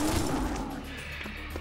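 Gunfire in the co-op shooter Serious Sam 3 opens with a loud, dense burst of shots that quickly tails off into fainter echoes and scattered impacts.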